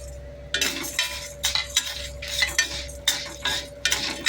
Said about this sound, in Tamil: ஒரு 4-5 பல் பூண்டு, கொஞ்சம் புளி, வரமிளகாய் இதை வந்து நம்ம போட்டு வதக்கலாம்.